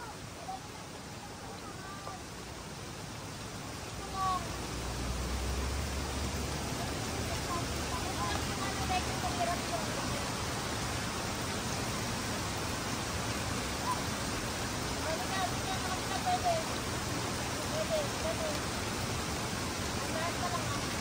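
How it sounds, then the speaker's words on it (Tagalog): Steady rain falling around the Wang Chung Stream waterfalls in Hong Kong, a broad continuous hiss that thickens after a few seconds and holds evenly, with faint voices now and then. "Kahit na umuulan."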